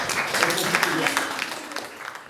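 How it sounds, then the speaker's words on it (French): A crowd at the opening of a youth citizen rally claps in a loose, lively burst that gradually thins out, with voices talking over the applause. "on va vous applaudir"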